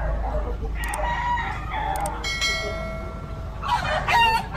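Chickens and roosters on a village farm, with repeated clucking and a couple of loud crows near the end, close and fairly loud over outdoor background noise.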